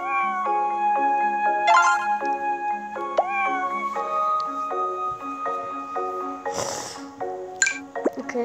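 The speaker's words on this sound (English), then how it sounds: "Oh, cats." Cats meow repeatedly in the cooking game Snack Bar, a string of bright, cartoonish meows over steady, plinking game music, with one noisy burst near the end.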